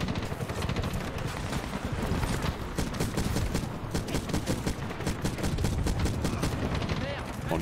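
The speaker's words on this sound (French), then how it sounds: "tu peux tirer au coup par coup, tu vois la balle qui part à gauche" Rapid gunfire in the 2010 game Medal of Honor, dense bursts of loud repeated shots running throughout, with a voice speaking over them.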